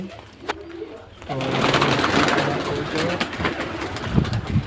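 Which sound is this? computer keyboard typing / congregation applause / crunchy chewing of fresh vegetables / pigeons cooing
pigeons cooing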